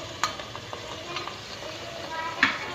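Garlic ginger paste frying in oil in a pan while cooking moong dal mangochiyan, a soft steady sizzle with light stirring scrapes and a couple of brief clinks, close by.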